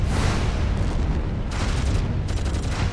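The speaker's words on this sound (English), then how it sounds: "Heavy fire!" Heavy gunfire and explosions in the World War III: Black Gold strategy game roar without a break, dense and loud, with booming blasts and rattling fire running through the whole stretch.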